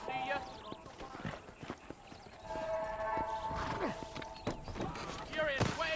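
Horses in the Red Dead Redemption video game walk with steady clip-clopping hooves and a neigh near the end, while someone talks over the game sounds.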